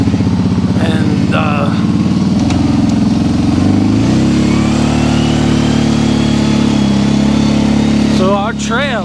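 An ATV engine runs steadily near and loud as it rides into the woods, with the pitch shifting as it accelerates, while people talk over it.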